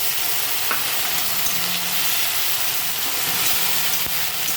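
Ginger-garlic paste frying with browned onions in a pan gives a loud, steady sizzling hiss up close. Occasional faint stirring taps sound beneath it.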